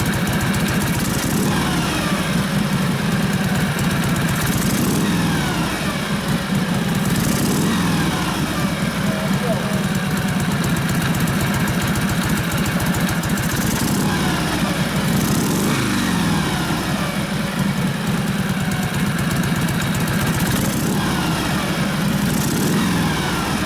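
A 1965 Harley-Davidson Panhead 74ci FLH motorcycle with a Linkert carburetor running close by, a loud, steady, lumpy engine drone with rhythmic low pulses and occasional throttle swells throughout.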